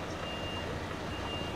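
A truck's reversing alarm sounds at a supermarket delivery stop, a thin, steady electronic beep held over a constant engine-and-road rumble that fills the short moment.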